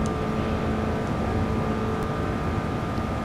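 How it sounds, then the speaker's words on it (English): Steady engine drone from a Lexus LC500 while driving, a constant low hum with faint tonal whine, heard from inside without talk. "I like the way the engine sounds."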